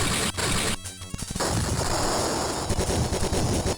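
Rockets and gunfire from a flight-combat video game, Lock On, with a dense, loud barrage of rapid bursts and impacts that runs almost without a break.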